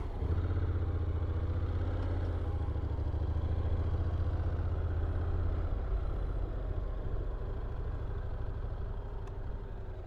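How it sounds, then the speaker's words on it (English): A 2023 Honda NC750X DCT automatic motorcycle pulls away, a low steady engine hum and rumble that holds for several seconds, then shifts slightly and continues quietly without speech. "Press the D button with the kickstand up to get it into gear, and simply twist the wrist and away we go."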